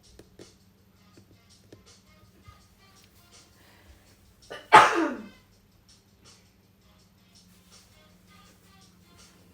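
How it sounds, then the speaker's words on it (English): A single sharp sneeze bursts out in an otherwise quiet room, loud and brief with a breathy tail, faint background hum around it. "I need to sneeze."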